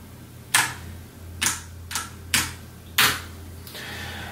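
Five sharp, separate clacks at uneven intervals, like individual keys struck firmly on a keyboard connected to an FPGA-based TI-99/4A clone, standing out over a faint low hum.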